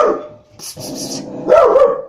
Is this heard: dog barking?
yes